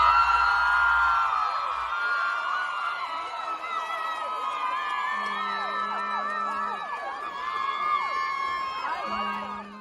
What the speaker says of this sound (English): Wonder what they're cheering for?